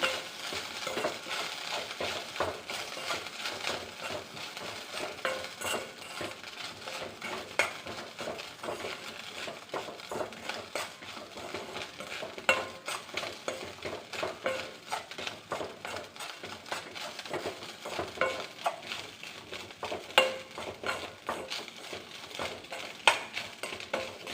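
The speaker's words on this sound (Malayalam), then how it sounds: "ഇനി ഇത് നല്ലപോലെ ഇളക്കി എടുക്കാം." Puttu upma being stirred in a pan, a steady, continuous scraping and light sizzle with frequent small clinks of the spoon against the pan, close and even throughout with no talking.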